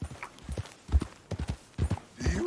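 Horse hooves clip-clopping in Red Dead Redemption 2, an irregular run of soft thuds at a walking pace, close by, with a brief snort or whinny near the end.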